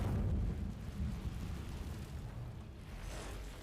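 In Hogwarts Legacy the Incendio fire spell bursts out with a low roaring whoosh that fades into a rumbling crackle.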